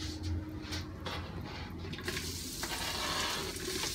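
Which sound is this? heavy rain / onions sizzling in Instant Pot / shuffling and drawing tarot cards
onions sizzling in Instant Pot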